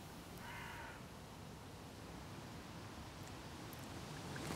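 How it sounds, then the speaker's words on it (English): A crow caws outdoors in Budapest near the Danube, a brief call early on set against steady broadband city and water hum, fairly faint and distant. "Hallottam a varjút."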